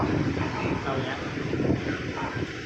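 Steady outdoor wind buffets the microphone as a continuous rushing roar on a trip by motorcycle to a lively evening market, with a muffled voice partly buried beneath it.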